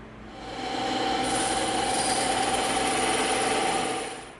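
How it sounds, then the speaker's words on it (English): A bandsaw cuts through EVA foam for a keyblade prop, a steady droning machine whine that swells up, holds evenly for several seconds, then tapers off, with no voices. "we're going to go over to the bandsaw and we're going to cut this out on the bandsaw"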